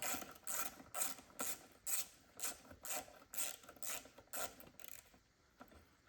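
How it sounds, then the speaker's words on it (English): A 6mm ratchet working on the intake connections of a BMW S62 engine, with about a dozen quick, evenly paced clicking bursts, close but fairly quiet, no voices. "There's a 6mm ratchet just to see if we can pull"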